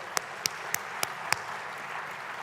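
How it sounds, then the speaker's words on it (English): Clapping at a large plenary meeting: a handful of sharp, evenly spaced claps ring out one after another over a faint room hum, then fade away, sparse rather than a full roar. "a round of applause for them."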